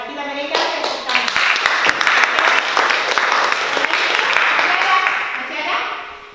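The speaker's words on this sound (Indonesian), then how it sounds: "Kita berikan tepuk tangan." Students clapping in a vocational high school class, a loud round of dense hand claps lasting about six seconds, with faint voices mixed in.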